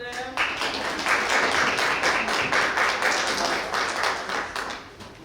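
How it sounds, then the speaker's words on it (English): Round of applause for panelists and a moderator at a talk on engaging survivors as subject matter experts, modest audience clapping that starts abruptly, holds steady with distinct individual claps, then tapers off. "Another round of applause for them."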